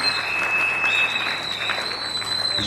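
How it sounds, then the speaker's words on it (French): An audience at a church dedication ceremony in Mont Ngafula claps and cheers steadily throughout, a dense, even wash of applause with a sustained tone running underneath. "Est-ce que nous pouvons acclamer pour lui?"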